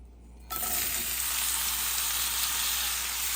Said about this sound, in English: Now I'm gonna add a little bit of olive oil. And I'm gonna do the onions.